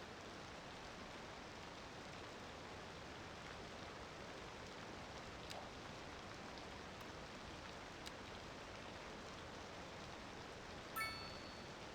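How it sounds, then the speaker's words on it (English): Steady rain hisses softly in a Cities Skylines 2 city, an even, faint wash of falling water with no voices. "It's a rainy day."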